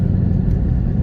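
A 2020 Shelby GT500 engine at high revs ahead of a shift during a drag run, a loud, close, deep rumbling roar that holds steady for about a second.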